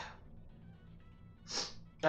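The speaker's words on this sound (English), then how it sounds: "I had that sneeze for a while now." A single sharp sneeze bursts out near the end during a Portal playthrough, set against quiet game ambience and preceded by a softer breathy intake.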